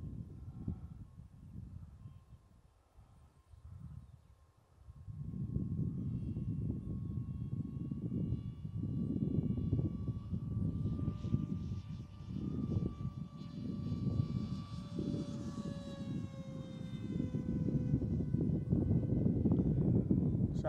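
A Dart XL RC plane with a 6S Mini Drak powertrain flies, its steady motor and prop drone carrying with wind noise, rising in pitch and whining harder partway through as it passes.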